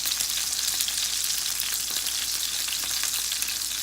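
Sirloin steak searing in a cast iron pan makes a loud, steady, close sizzle with fine crackling that holds evenly the whole time, with no talking.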